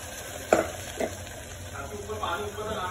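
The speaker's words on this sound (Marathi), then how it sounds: "आता बेसन पण छान भाजलं गेलं आहे माझं।" Spice masala and gram flour roast in a pan, giving a low, steady sizzle broken by a couple of sharp spatula scrapes near the start and a brief burst of stirring toward the end.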